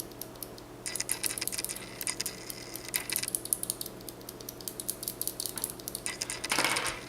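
An Outemu Teal clicky mechanical keyboard switch is pressed repeatedly, giving quiet, crisp clicks in an irregular, fairly quick series with a few louder clusters, close up and with no talk over them.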